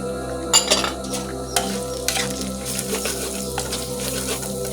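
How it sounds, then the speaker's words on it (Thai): Sugar being dry-roasted in a pan for a dried-fish herb chili paste, with steady scraping and stirring of a utensil against the pan and a few sharper clinks, close and moderately loud, no talk. "คั่วให้น้ำตาลละลายครับ"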